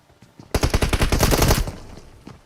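Rapid automatic gunfire at a gate in a mobile battle-royale shooter game, a dense burst of sharp, close shots lasting about a second, preceded and followed by faint isolated clicks.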